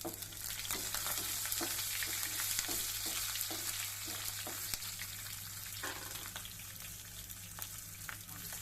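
Garlic fries in a pan for a bachali (Malabar spinach) leaf fry, with a steady, soft sizzle and occasional light stirring scrapes throughout.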